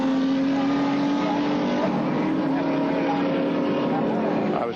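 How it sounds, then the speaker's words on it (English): Alan Grice's Holden Torana A9X, car number 6, races past at Bathurst in 1979 after a lengthy pit stop, a loud steady engine roar holding close throughout under a commentator's voice. "It's Alan Grice going through in car number 6"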